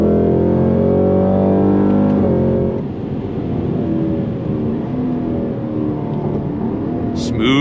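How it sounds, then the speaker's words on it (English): A 2026 Cadillac CT5-V Blackwing engine drones with strong harmonics, and its pitch drops sharply at a downshift before settling into a rougher, lower rumble heard from inside the car. "Smooth downshifts."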